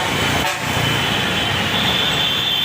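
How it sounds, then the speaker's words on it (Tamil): Loud, dense road traffic near Koyambedu, Chennai roars continuously, with a sustained car horn tooting over the engine noise. "கொஞ்சம் டிராஃபிக் அந்த இடத்துல பயங்கர டிராஃபிக்காக இருக்குது"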